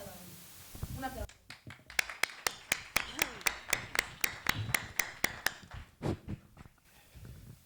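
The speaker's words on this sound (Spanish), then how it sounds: "Un aplauso." Sharp, evenly spaced claps ring out one by one in a slow, regular rhythm at an authors' gathering, close and distinct, with brief talk before and after.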